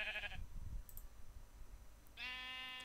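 Minecraft sheep bleating, two distinct wavering baas, one at the start and another near the end, separated by quiet, with no talk.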